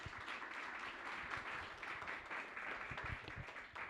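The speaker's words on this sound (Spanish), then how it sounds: "Un aplauso para José Aguilar." Audience applause for a speaker at a community talk, a moderate steady patter of many hands clapping at some distance, fairly quiet overall.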